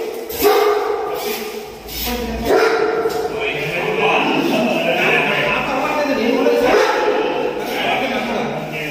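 A newly acquired dog barks and yips in short bursts, with whimpering between, close by while people talk throughout.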